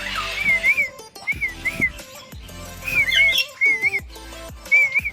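Repeated bright whistling bird calls, each a short rising-falling phrase, sounding close by over a busy background of other noises.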